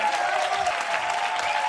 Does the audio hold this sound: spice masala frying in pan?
no